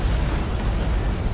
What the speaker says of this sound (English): It must have been one of their boarding parties. I'd guess an antimatter charge.